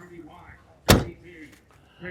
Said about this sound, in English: Door shuts like butter.